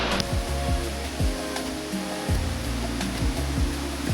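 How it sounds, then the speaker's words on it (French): A waterfall cascading in the Taiping jungle of Malaysia roars as a dense, steady wash of broadband noise, close and loud, with low rumbling thumps recurring underneath. "J'attendais de m'écarter un peu de la cascade parce qu'au niveau du son, ça peut être top"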